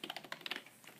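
A brand-new computer keyboard from a thrift store clicks under quick typing, a rapid run of light, close keystrokes that trail off, faint and with no talk.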